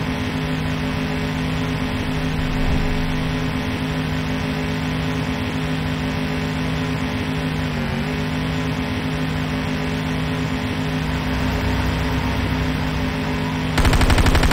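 Sustained automatic gunfire rattles against a Nod harvester in the shooter Renegade, a dense, unbroken mechanical drone mixed with engine rumble that stays loud throughout and grows slightly harsher at the very end.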